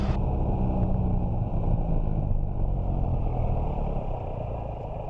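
Small aircraft engine idling before takeoff, a loud steady low drone that holds constant and eases down slightly near the end, no talk over it.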